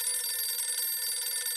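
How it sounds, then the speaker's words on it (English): A telephone bell rings in a cartoon detective's office, a continuous bright trilling ring held steadily for the whole moment with no voices over it. "Just can't stand the sound of a phone ringing."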